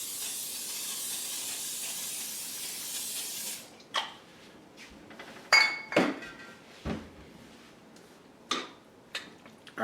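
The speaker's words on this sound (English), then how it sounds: "Got my olive oil spray." Olive oil spray hisses steadily into a baking dish for a few seconds, then stops, followed by scattered clinks and knocks of handling the can and dish nearby.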